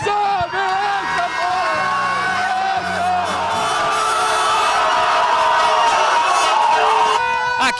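Brazilian football fans celebrate a World Cup win on Iracema beach in Fortaleza, a dense crowd roaring with whoops and cheers that sustain loudly throughout, with horn-like tones and siren-like wails running through the noise.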